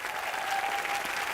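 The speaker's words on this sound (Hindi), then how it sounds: "एक बार बाबा के लिए जोरदार तालियां।" Television comedy show audience breaking into loud applause for the elderly guest Baba, a steady even burst of clapping with faint crowd murmur underneath, lasting about a second and a half.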